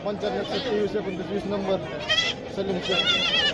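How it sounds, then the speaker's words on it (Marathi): Goats bleat at an open goat market in Bodhegaon, with several wavering calls close by rising above constant crowd chatter and people talking. "तर बघू शकता या सहा शेळ्या आहेत"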